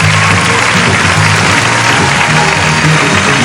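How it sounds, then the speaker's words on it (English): Audience applause at the 2002 Jasper Strassenfest pageant crowning ceremony, a steady dense roar of clapping filling the hall without break, loud and continuous with a low hum beneath. "please give a big round of applause to our 2002 Jasper Strassenfest"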